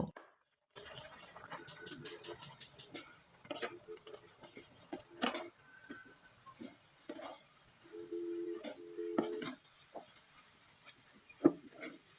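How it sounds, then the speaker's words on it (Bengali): Semolina and grated coconut are stirred and worked into a pastry dough, with soft scraping and clinking of a spoon against a bowl, irregular and close, over a faint steady background whine and no voice. "এখন আমি নেড়ে চেড়ে একটা ডো তৈরি করে নেব"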